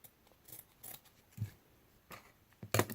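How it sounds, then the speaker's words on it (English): Scissors cutting a strip of black felt for a doll bed, a few close, soft snipping chops spaced unevenly across a few seconds, with quiet handling between. "I'm going to take my black felt again. We're just going to cut it. Just cut a strip."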